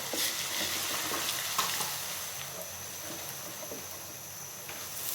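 Vinegar-mixed garlic paste frying in mustard oil over medium heat for an olive pickle, giving a steady, even sizzle with faint scraping stirs throughout, close and continuous with no talk.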